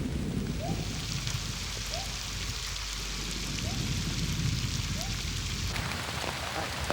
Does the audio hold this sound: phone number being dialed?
no